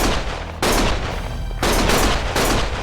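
Dense gunfire in the action game Lost Judgment, loud sustained bursts of rapid shots and a fusillade that pauses briefly before resuming, close and overwhelming.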